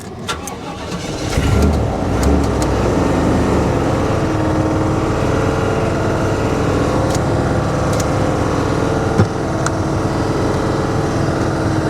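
Dodge Ram SRT-10 with its Viper V10 running, engine catching and then held at a raised, slightly rough throttle, loud and close with a continuous mechanical roar and a few faint clicks.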